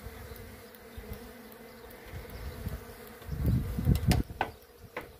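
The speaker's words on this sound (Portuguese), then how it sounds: "as abelhas arrancharam o ano atrasado" Caatinga stingless bees swarm around nest blocks, giving a steady close insect buzz that swells louder toward the end, with a few sharp clicks and knocks.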